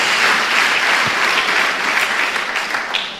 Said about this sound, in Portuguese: Na salva de palmas de Jesus.